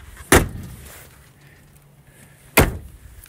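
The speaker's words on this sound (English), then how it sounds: "I gotta close this door first." The door of a 2006 Chevrolet K1500 Silverado extended-cab pickup with about 297,000 miles shuts with two sharp, loud thuds about two seconds apart, with quiet background between them.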